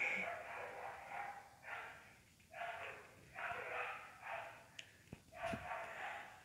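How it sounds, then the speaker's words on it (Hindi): Dogs barking outdoors near a house, with repeated rough barks coming in uneven bursts. They sound faint and somewhat distant over low background noise. "हमारे ही कुत्ते भौंक रहे हैं।"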